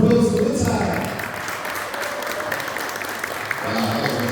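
An audience at a concert in London claps steadily, a dense patter of applause that fades slightly and then picks up again.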